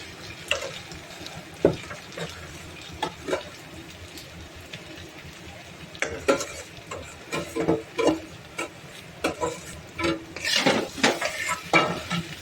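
Mashed potato mixed with paneer and onion in a pan, with intermittent spoon scrapes and clinks against the metal that grow busier toward the end and a faint sizzle, no voices.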